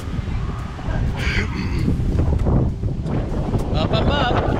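Strong wind buffets the microphone on a boat trip at an island in Aruba, a loud constant roar with gusty rumble, while people speak over it at times.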